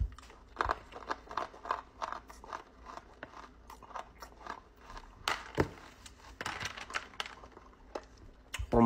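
A run of sharp, dry crunches from freeze-dried Skittles, closely spaced and close to the ear, with a few louder snaps and no talking.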